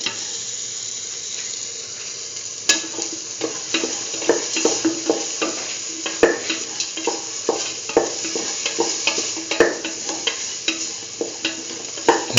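A spoon stirs and scrapes salted chickpeas with tomato and other ingredients in a pan, giving a continuous soft sizzle broken by repeated knocks and scrapes as the mixture is worked.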